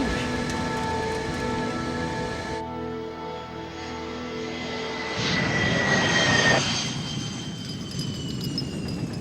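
An Avro Arrow jet aircraft roars past in a film scene, a loud sustained engine whine with a rising high pitch and a surging rumbling swell partway through, no voices.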